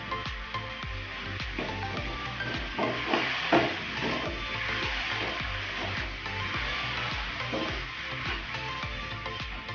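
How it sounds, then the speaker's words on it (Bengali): Ginger paste is sautéed on lowered heat in a pan for egg curry, giving a steady close sizzle and frying crackle with occasional stirring scrapes, with no voice. "এবার আমি আদা বাটা দিয়ে দেবো। কষানোর সময় আঁচটাকে একটু কমিয়ে দেবো।"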